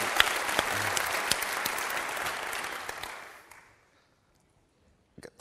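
A conference audience applauding at the closing of the event, a loud burst of clapping that fades out after a few seconds, followed by near silence and a couple of faint knocks.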